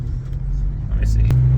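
A Mercedes diesel engine with worn turbo seals runs close by, a loud steady low rumble that lifts in pitch near the end as it revs.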